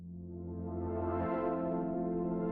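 A synth pad preset in the Faceplant synthesizer, edited to sound less aggressive, swells in slowly and sustains as a warm, steady tone with a low note dropping away midway.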